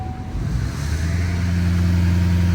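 Chevrolet L5P Duramax diesel truck engine held at high idle, a steady, loud low drone with a constant hum that settles in after the first half second and runs evenly throughout.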